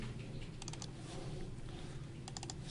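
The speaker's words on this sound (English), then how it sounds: "I'm typing it out" Quick bursts of computer keyboard typing, a couple of rapid clusters of key clicks at the start and end over a steady background hum, fairly faint.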